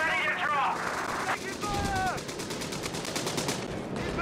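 Machine gun fire in a Company of Heroes 3 battle, with rapid bursts of automatic fire and repeated shots rattling at mid distance among other game sounds and a voice.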